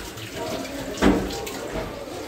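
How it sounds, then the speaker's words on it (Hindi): A train toilet flushes with a short rush of water that surges once, then a steady hiss of running water under background rumble, with someone talking over it. "और यहाँ पे जो पानी है फ्लेश हो जा रहा है"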